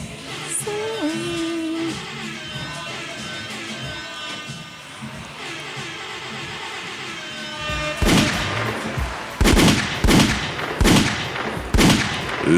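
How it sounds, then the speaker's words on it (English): Gunshot sound effects at the end of a podcast: several loud sharp cracks in close succession, fired alone in an irregular volley after a stretch of music. "Gunshot means forward. Gunshot means we out of here."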